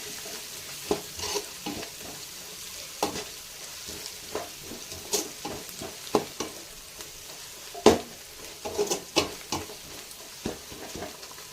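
Coriander and mint leaves sautéing and being stirred in a pan for mutton dum biryani, with a soft steady sizzle broken by repeated sharp scrapes and clinks of the spoon against the pan.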